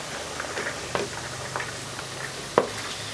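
Stirring in a pan of frying onions with carrots, peas, French beans and chopped liver mixed in for a Nigerian-style fried rice, soft sizzle under scattered scraping and clinking of a spoon, one sharper knock near the end.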